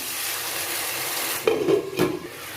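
Ginger garlic paste hits hot oil in a pan for brinjal pepper thokku, giving a low hiss that swells into two short, louder sizzling bursts near the end as it is stirred.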